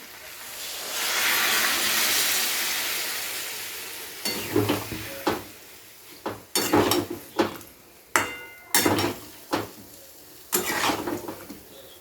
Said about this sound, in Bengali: এবারে দিয়ে দিচ্ছি সামান্য একটু জল